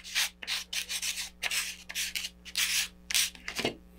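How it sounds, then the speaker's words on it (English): Rapid back-and-forth sanding of excess paper overhanging the edge of a model rocket fin, a close, steady rasping in short repeated strokes with brief pauses, over a faint constant hum. "there's some hanging over the edge, and you can sand that off as well"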